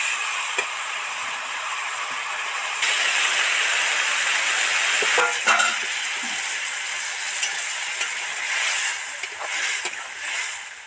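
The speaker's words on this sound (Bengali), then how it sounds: "সুন্দর করে ভাজা হয়ে গেছে তেল ছেড়ে গেছে এবার জল দিয়ে দেব" Water poured into a pan of frying vegetables, including kohlrabi, papaya and radish, brings a steady, loud sizzle and hiss that carries on throughout, with occasional stirring clicks and crackles.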